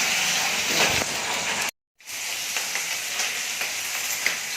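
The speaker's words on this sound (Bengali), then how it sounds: "আর মাছটা ভাজতে দিয়েছে" Dried fish frying in a pan, a continuous bright sizzle and hiss close up, broken by a brief moment of silence before the crackling frying resumes.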